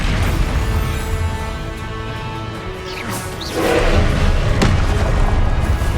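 A Confringo spell explosion in Hogwarts Legacy hits as a sudden booming burst midway, followed by a sharp crack, over a steady, loud bed of game ambience.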